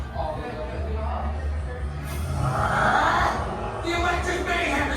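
Crowd noise at a sold-out concert on a ride, a broad murmuring roar of people that swells in the middle with faint cheers under it, heard at a distance.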